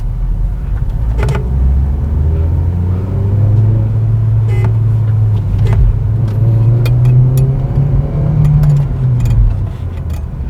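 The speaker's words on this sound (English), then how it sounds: "I can feel the punch like when you pull it from 3000 rpm. So now I'll just pull it and show it to you." A Hyundai Verna 1.6 petrol engine pulls from about 3000 rpm, a loud, steady in-cabin drone that rises slowly in pitch over road rumble, with a few faint ticks and no talking.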